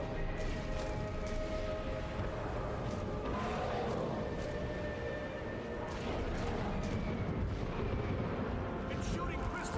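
Mortar fire in the Guild Wars 2 video game, heavy booming shots landing amid a constant, dense wash of battle noise with a voice talking over the din.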